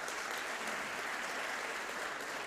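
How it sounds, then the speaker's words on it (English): Steady, dense applause from an audience at a senior hall of fame ceremony, a continuous wash of many hands clapping at moderate distance with no pauses. "please give her a round of applause."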